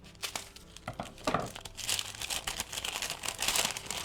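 Scissors cut across a sheet of parchment paper for lining the bottom of a cheesecake pan, giving close crinkling and rustling snips in a steady run of several seconds, with no talk.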